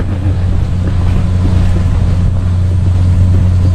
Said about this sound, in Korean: 바람이 불어서 시원하네요